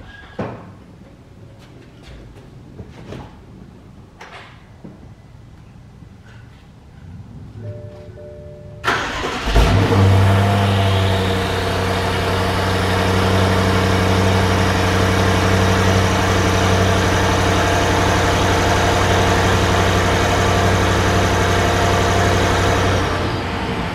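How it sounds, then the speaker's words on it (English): A quiet room with faint clicks, then a BMW 550i F10 twin-turbo V8 (N63TU) with newly installed aftermarket downpipes cranks and catches loudly, settling into a steady, rumbling idle that continues to the end. "time to first start after downpipe install."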